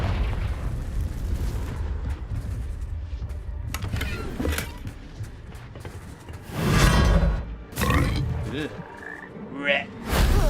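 Confringo fire-blast spell exploding in Hogwarts Legacy: a couple of loud, booming bursts close together, following a stretch of rumbling game ambience.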